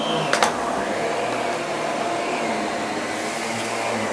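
A Miele Guard L1 Electro canister vacuum cleaner runs with a steady, loud whooshing whine that holds constant throughout. A couple of faint clicks come near the start, and there is no talking.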